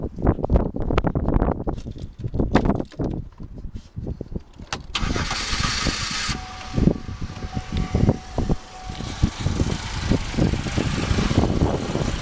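A 2006 Buick car fitted with a gas vaporizer build, its engine starting: a long stuttering crank that catches and settles into a rough, uneven running rhythm, close and loud.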